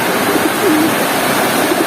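Heavy typhoon rain pours in a steady, dense roar with no breaks, loud and close.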